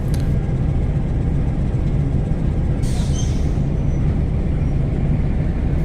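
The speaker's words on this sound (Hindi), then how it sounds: "और अब इस लोकोमोटिव को बोलान मेल के रैक के साथ अटैच किया जाएगा।" A locomotive being coupled to the Bolan Mail passenger rake, a steady loud low rumble of idling railway diesel and train noise throughout, with a brief brighter metallic hiss partway through.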